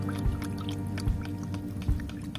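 Plant-growth liquid solution being stirred into water for rice crops, a steady close swish of sloshing liquid with a few soft knocks from the stirring.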